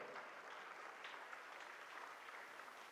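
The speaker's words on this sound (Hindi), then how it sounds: "और तेज तालियां बजाएं ताकि और हौसला मिले।" A school audience claps steadily through a prize ceremony honouring student toppers, the applause sustained and moderately distant with no voices over it.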